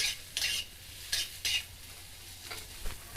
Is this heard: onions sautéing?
yes